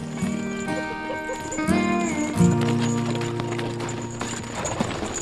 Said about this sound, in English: The horses that are pulling us right now are Belgian horses.